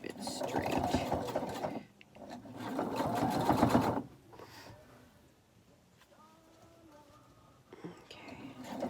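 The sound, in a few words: sewing machine stitching fabric face mask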